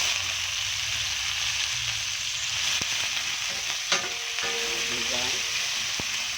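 Shrimp fry with ginger in a hot pan, a dense, constant sizzle close by. A few utensil clinks and scrapes come through near the middle, and a voice speaks briefly.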